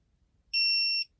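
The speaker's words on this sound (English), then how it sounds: "once you've stopped, it will beep and go green, and you know you've got it to the desired torque that you need" A Snap-on digital torque wrench gives one steady, fairly loud high-pitched electronic beep about half a second long once the set torque is reached, in a quiet room.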